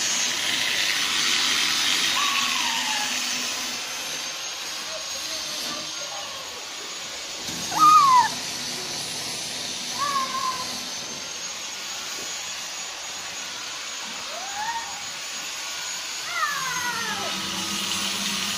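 Cats being fed dry cat food give a handful of scattered, thin meows, moderately near, over a constant hissing background hum, with long pauses between calls.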